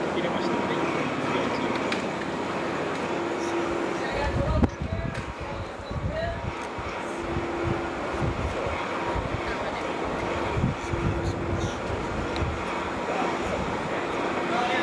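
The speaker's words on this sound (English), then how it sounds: "We are still launching aircraft off the bow" Aircraft launching off the bow of the carrier USS Lincoln, a continuous loud roar of jet engines and deck machinery throughout, with a heavy thud partway through and voices talking under the noise.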